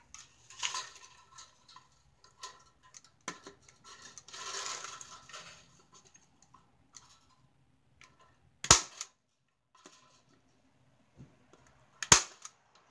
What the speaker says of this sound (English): then I'm stapling this all together